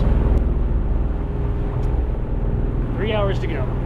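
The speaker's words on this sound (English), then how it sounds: "It's pretty noisy in the cockpit with the engine" A Catalina 30 sailboat's inboard engine runs steadily throughout, a constant low mechanical drone heard from the bow, with a brief voice or call rising near the end.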